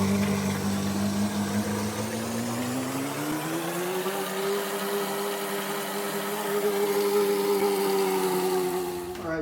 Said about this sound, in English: Plug it in, and we'll turn on the engine.